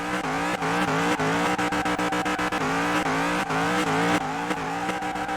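Car revving hard in Car Mechanic Simulator 2021, a 200-horsepower engine climbing in pitch and shifting gears very quickly, each shift a sharp drop before the next rising whine, loud and continuous.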